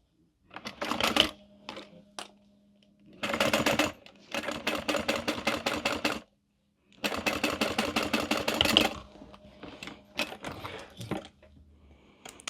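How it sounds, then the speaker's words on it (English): A sewing machine top stitches along the top edge of a fabric mini wallet, loud and close, in several fast rattling runs of a second or more separated by brief stops and a few single stitches. "And we're going to top stitch at the very top."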